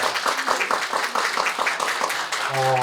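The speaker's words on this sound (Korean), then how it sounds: "다시 큰 박수 부탁드리겠습니다" Clapping from attendees at a Korean parliamentary candidacy press conference, brisk and fairly close, continuing for a couple of seconds before it fades under a steady tonal hum near the end.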